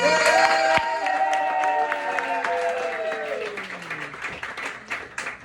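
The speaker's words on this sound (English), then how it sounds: "Get your hands together for Claire Lee" A stand-up comedy club audience in Greenwich Village applauds loudly, with some cheering over a sustained musical tone, the clapping thinning out toward the end.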